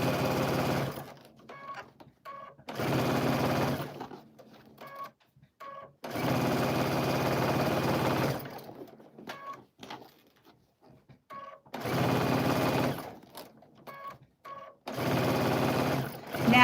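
Sewing machine stitching a French seam on a dress, loud mechanical whirring bursts of a few seconds each, separated by pauses filled with softer handling clicks.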